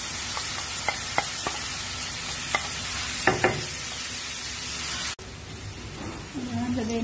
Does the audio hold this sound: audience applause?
no